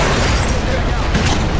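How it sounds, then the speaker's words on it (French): A grenade blast in the Splinter Cell Conviction game, heard as a dense, loud, sustained roar of noise with no distinct onset, filling the whole short moment. "Grenade à couvert!"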